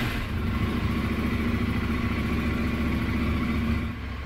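A KTM 890 Adventure R motorcycle engine with its DB killer removed from the exhaust runs steadily and close by, a continuous mid-pitched idle with mechanical clatter that holds for about four seconds before easing off slightly.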